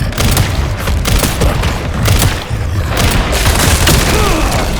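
Shotgun blasts in the horror game Resident Evil Requiem, with heavy booming shots that run together into a dense, loud, continuous roar of impacts and rumble.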